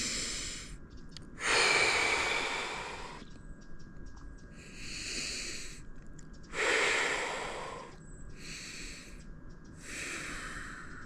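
Heavy, forceful breathing from a person submerged in cold water: two loud, long, sharp breaths with quieter, steadier breaths between them, close and alone, with no talking.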